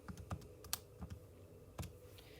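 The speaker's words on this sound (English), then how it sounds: "Type that into my calculator." Buttons pressed on a calculator during a maths problem, a handful of quiet, close, uneven clicks and taps spread over a couple of seconds.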